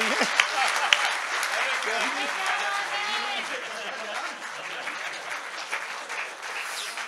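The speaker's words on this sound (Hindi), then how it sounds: "अरे तालियां बजा दो भाई" A crowd claps in steady, sustained applause while a voice carries on over it, at the three-day Hindon festival stage performance.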